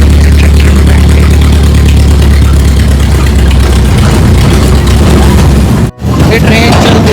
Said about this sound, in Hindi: ये ट्रेन चलती कब और खड़कती ज़्यादा है।